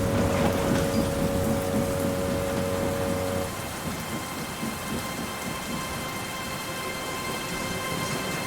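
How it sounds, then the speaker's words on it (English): A strong storm with steady heavy rain and a low rolling rumble of thunder, loud and continuous throughout, with no voices. "The storm was strong and fierce."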